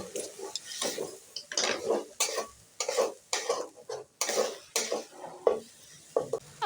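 Spices frying in a pan with a splash of water for a bottle gourd curry, crackling in irregular bursts alongside the scrape of a spoon stirring against metal, close and moderately loud with no talking.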